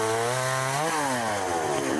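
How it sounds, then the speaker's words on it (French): A chainsaw cuts through fallen wood to clear a road blocked by storm debris, its engine droning loud and close, pitch sagging as the chain bites in and then rising again. "Tronçonneuse à la main"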